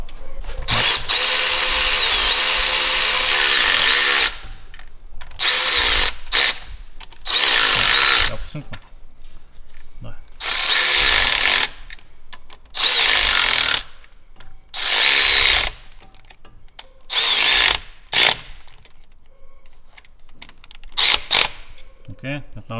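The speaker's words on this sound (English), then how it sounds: "We're going to tighten it up until the sleeve goes even with the timing chain" Power tool running in repeated bursts as it tightens bolts to press in a crankshaft seal on a BMW M57 diesel engine, loud whirring pulses separated by short pauses, with quiet stretches between.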